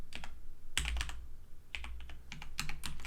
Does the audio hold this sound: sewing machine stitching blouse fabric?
no